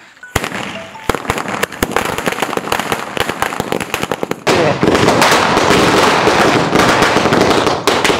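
A 200-wala string of Sivakasi firecrackers bursts in a fast, loud string of sharp cracks that thickens midway into a dense, continuous crackling roar.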